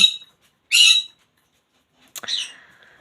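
Small, noisy birds give three separate squawks from close by, with silence between them. The first is short, the second a loud burst, and the last a harsher call that trails off.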